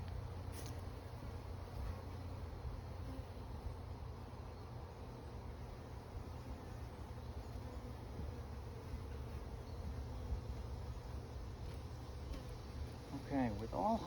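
Steady, dense buzzing of a bee colony during a beehive inspection, a continuous low drone filling the whole stretch at moderate level, with a brief voice-like sound near the end.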